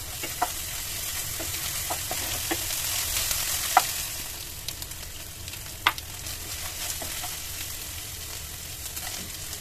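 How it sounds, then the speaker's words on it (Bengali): Onion frying with garlic and ginger paste and salt for mochar ghonto, a banana-flower dish, gives a continuous close sizzle broken by regular light scrapes and taps of a stirring spoon. "ভালোভাবে এটাকে পেঁয়াজের সাথেই ভেজে নেব।"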